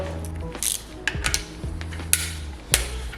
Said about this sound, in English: I torque these down to 42 Newton meters with absolutely no issues whatsoever.